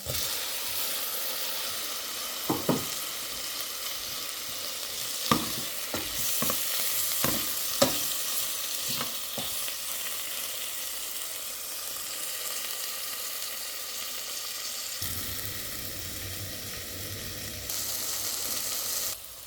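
Tomatoes sautéing in a pan for a Jaffna-style mutton curry, a continuous hiss of frying broken by a run of clanking stirs from a utensil against the pan.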